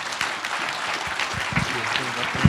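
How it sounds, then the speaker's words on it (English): Audience at a talk on beaver dam analogues breaks into applause, a soft steady patter of clapping with some low voices mixed in. "A round of applause."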